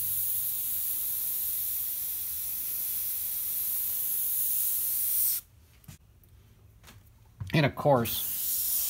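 An airbrush spraying Createx Wicked Opaques paint, a loud, even hiss that runs for several seconds before cutting off, followed by a short voice.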